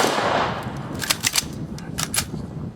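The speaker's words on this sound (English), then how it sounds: "Ready? Aim. Fire." Ceremonial rifle volley from a tribal nation honor guard, heard as a few sharp, distant cracks scattered over a steady outdoor background, no voices.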